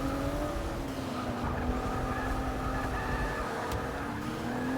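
Race car engine droning steadily in Forza Motorsport 6, a Volvo S60 circling the track with a sustained, fairly loud whine and faint tire noise as a car spins out, no talking.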